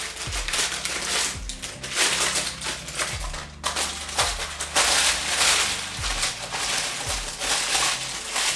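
Crinkly, crackling scrunching of parchment paper close by, in repeated bursts over several seconds with low knocks underneath.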